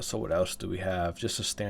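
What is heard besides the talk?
No distinct noise like a dog, phone or traffic.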